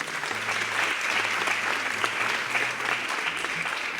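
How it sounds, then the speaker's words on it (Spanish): Steady audience applause at a literary panel on memory and identity, a dense, even patter of many hands clapping continuously in a hall, with a low hum beneath. "y pues también un aplauso para Juan."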